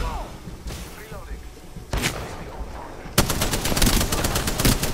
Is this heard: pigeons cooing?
no